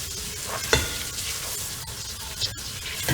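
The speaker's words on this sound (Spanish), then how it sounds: "Cuando la grasa comienza a tomar color dorado, adicionamos nuestra harina para realizar un roux. Revolvemos bien y queremos que se tueste un poquitito." A roux of flour, bacon fat and oil is stirred and toasted in a pan, giving close, continuous sizzling with scraping stir strokes and occasional louder clacks of the utensil.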